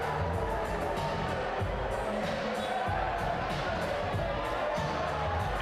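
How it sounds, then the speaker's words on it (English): Crowd at a professional NBL basketball game between Hawkes Bay Hawks and Auckland Tuatara roars and cheers steadily throughout, a dense, continuous wash of arena noise with a commentator talking over it. "As you hear the crowd rocking."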